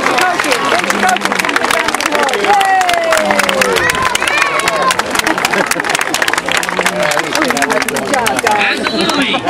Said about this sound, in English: give all your parents and coaches a big round of applause